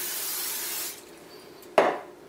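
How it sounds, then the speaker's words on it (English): Cooking spray hisses onto the open plates of a cake pop maker in a steady burst of under a second, then a second short, sharper spray follows for the top plate. "I'm going to take a little bit of cooking spray, and I'm just going to spray like that, and also the top"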